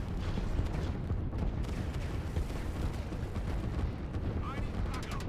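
Artillery firing in the Line War strategy game, a dense continuous rumble of booming shots blending together, with a commentator talking over it throughout.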